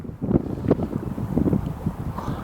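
Strong gusty wind buffeting the microphone beside a lake during a carp fishing session, a steady low rumble with irregular louder blasts throughout, no voices.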